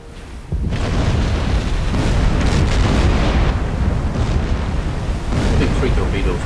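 Torpedo explosions tear into a cargo ship during a submarine attack in Silent Hunter 4, a sudden loud blast followed by a long rumbling roar with repeated booming surges and crackling debris.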